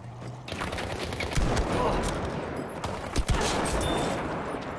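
A shot from an iron-sight sniper rifle in Battlefield 5, a sharp report amid dense game noise and scattered distant gunfire, with a player's voice underneath.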